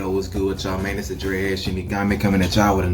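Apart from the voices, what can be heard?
No everyday noise stands out behind the speech.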